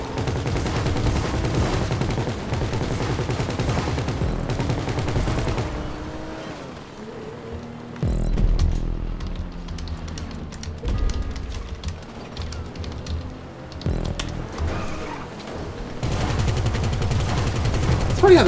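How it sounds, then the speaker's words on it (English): Gunfire in GTA 5 Online, with repeated bursts of shots and rattling automatic fire over a steady din of game noise for most of the stretch. "the gun sounds different depending on what position you're"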